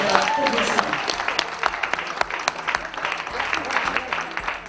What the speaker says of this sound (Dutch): Applaus voor jullie komst, voor jullie zelf.